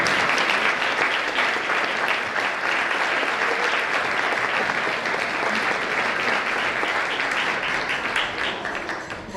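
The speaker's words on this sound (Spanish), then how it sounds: "Un aplauso, Diego." An audience at a Christmas folk music gathering in Grado, Asturias gives sustained applause for the town's culture councillor, a loud, even roar of clapping that tapers slightly near the end.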